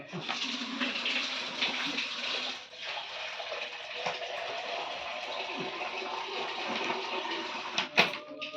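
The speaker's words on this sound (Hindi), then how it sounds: "पानी देता हूँ।" Water is poured during a Satyanarayan puja ritual, a steady hissing gush that runs for several seconds before ending with a small splash, heard close up.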